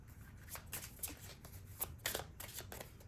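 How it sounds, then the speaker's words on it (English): Oracle cards being shuffled by hand, a steady run of soft riffling and slapping card noise close up, with no speech. "I'm going to pull 2 oracle cards."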